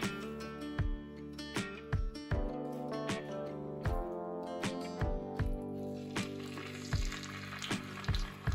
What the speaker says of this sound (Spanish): Y aquí iremos friendo el conejo poco a poco.